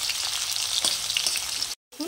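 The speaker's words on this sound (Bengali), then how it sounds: "আলুটাই ভাজা আমি হালকা করে কষে নিয়েছি" Potatoes sauté in hot oil with salt, a light pre-fry before a Bengali taroi fish jhal, giving a steady, close, dense sizzle with faint stirring scrapes and a brief silent gap near the end.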